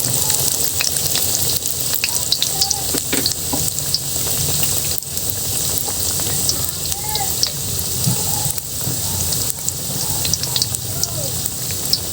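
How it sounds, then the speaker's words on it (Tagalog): Eggplant fries in hot coconut oil over medium heat, giving a dense, steady close sizzle with small crackles and pops throughout, with no talk over it. "At ngayon ay magsisimula na tayong magprito."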